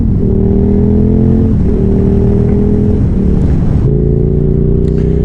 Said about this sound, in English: me in the back of Luke's 990 Superduke, going to fetch my bike